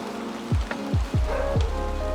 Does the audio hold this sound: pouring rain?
yes